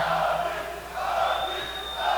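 A loud crowd booing at the UFC 229 press conference, a steady roar of many voices from across a large hall.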